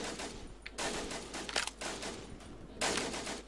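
Mounted gun in the video game No Man's Land firing in rapid, rattling bursts with short pauses between them, loud and close, during the Iron Europe event.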